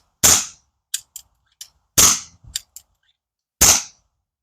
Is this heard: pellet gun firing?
yes